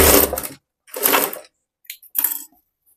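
Short bursts of a sewing machine stitching a strip on a boat neck blouse, two longer runs and two brief ones, close and fairly loud, with silence between.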